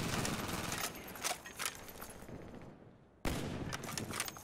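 Dense, rapid gunfire in the shooter Call of Duty: Black Ops 1, volleys of overlapping shots that thin out briefly before another loud burst resumes.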